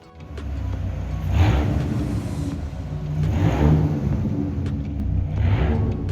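A Dodge Viper GTS driving on a road test after a clutch slave cylinder replacement, heard from inside as a deep engine rumble that rises and falls through several revving surges, loud and continuous with no talk.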